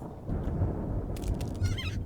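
Chiromaw eggs in the Betweenlands Minecraft mod heave and give off a gurgling, honking, goose-like cry, a few wet rough calls over a dense low rumble, fairly loud and close, with no talking.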